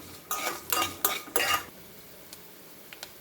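Ingredients for an Andhra-style ivy gourd thogayal being fried in oil in a pan, with several clattering bursts of stirring and utensil scrapes followed by quieter faint sizzling and small taps.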